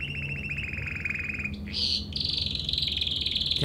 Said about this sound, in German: Der Vogel pfeift.